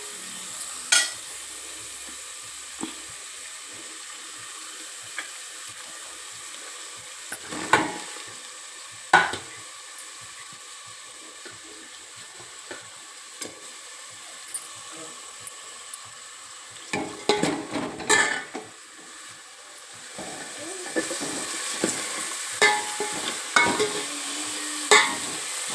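Onions frying in oil for a sprouted-bean curry, a constant low sizzle broken by intermittent stirring clatters and scrapes of a spoon against the pan.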